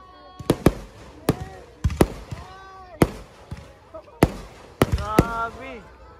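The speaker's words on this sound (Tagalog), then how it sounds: "Grabe, may fireworks display." A fireworks display at a debut celebration crackles with sharp, booming bursts at irregular intervals, some followed by fizzing trails, as people talk between them.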